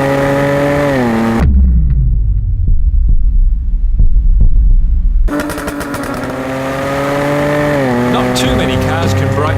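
A Jaguar F-Type sports car engine revs up and drops away, a loud throbbing growl with rising and falling pitch, cut by a short quieter stretch in the middle, then climbing again, close and dominant with no talk.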